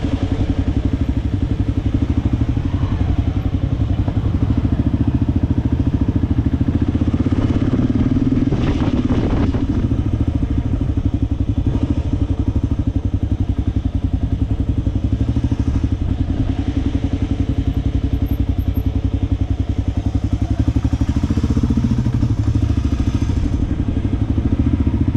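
A motorcycle cruises on the highway with a steady, loud engine drone and wind rush that continue without a break throughout.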